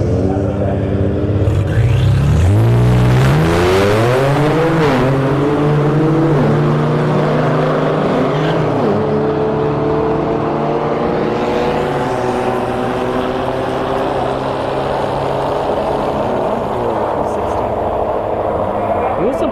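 An Infiniti Q60 drag races a work truck at a Street Heat event at Bradenton Motorsports Park, its engine roaring loud with rising and falling revs through the run, while a commentator talks over it.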